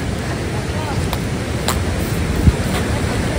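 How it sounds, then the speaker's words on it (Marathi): Rushing river water makes a constant broadband roar at close range, broken by a couple of faint clicks and one brief thump, with no voices over it. "आता आवाज येतो पाण्याचा, म्हणजे मस्त नदी असेल इथे असं वाटतं आहे."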